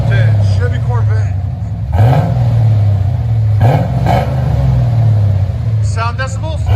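A 1986 Chevy Corvette 5.7L V8 with Flowmaster Super 10 dual exhaust idles with a deep, loud burble, blipped into two sharp revs that rise and fall back, while people talk over it.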